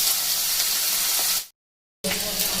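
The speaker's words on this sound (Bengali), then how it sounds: "উচ্ছেগুলোকে বেশ সুন্দর করে ভেজে নেব হালকা ব্রাউন কালার করে" Loud, steady hiss of bitter gourd frying in hot oil until light brown, broken by a half-second of silence before the sizzling resumes.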